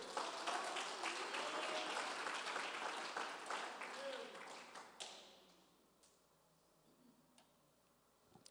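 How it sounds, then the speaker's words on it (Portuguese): A church congregation bursts into applause, a bright, dense clapping that carries for about five seconds before dying away into a few scattered claps and quiet room sound. "Você quer aplaudir o Senhor?"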